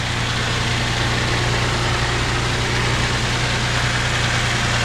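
A 2024 Toyota Tundra with a turbocharged engine on 5W-30 oil idles after a cold start, producing a constant, loud low drone with a steady vibrating hum that never changes, close by and unaccompanied by speech.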